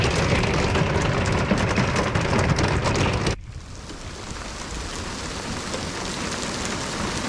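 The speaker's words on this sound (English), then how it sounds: "Just pounding rain" Heavy rain pounds down outside an RV, a dense, loud continuous roar that drops abruptly to a softer, steady patter partway through.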